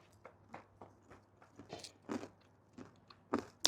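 Crisp bites into the charred, crunchy edge of tandoor-baked naan outdoors, a string of short close crunches and chewing spread over a few seconds, ending in two louder snaps.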